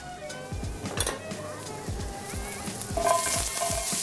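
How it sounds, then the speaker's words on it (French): Carrots sautéing in a pan, a steady loud sizzle with repeated clinks and scrapes of stirring, and a voice briefly talking over the frying. "nous allons faire revenir maintenant les carottes"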